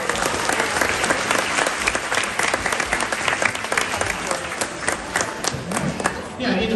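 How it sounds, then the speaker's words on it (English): Loud, dense applause from an audience in Australia after a sheep shearing demonstration, sustained clapping with some crowd noise for several seconds before tapering off. "Let's give him a clap."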